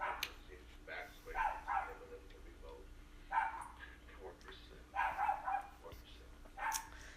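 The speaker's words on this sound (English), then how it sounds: "Downstairs neighbor has 2 dogs." Two dogs barking from a downstairs apartment, muffled and somewhat distant, in several short bursts of barks and yips spread across the stretch, mixed with indistinct talk.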